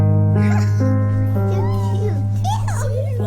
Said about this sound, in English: Oh, good petting the dog, Ethan.